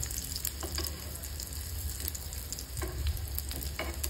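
Homemade fish fingers frying in hot oil, a steady close sizzle and crackle with occasional spatula scrapes, no talking.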